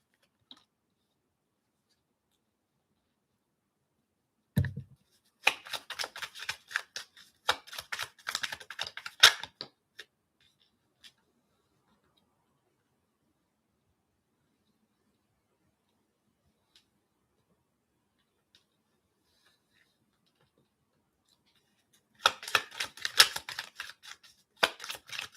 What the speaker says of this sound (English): I'm just gonna be shuffling for a second.